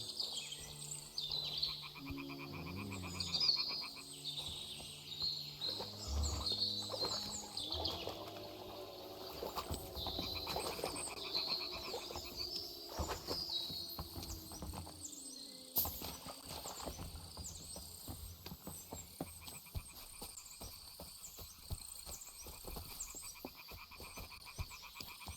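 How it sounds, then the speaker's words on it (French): Frog croaking in the video game Kingdom Come: Deliverance II, set among insect chirps, birdsong and faint water, the calls fairly quiet against a steady nature ambience with a few louder clicks, and no talking. "J'entends le bruit d'une grenouille"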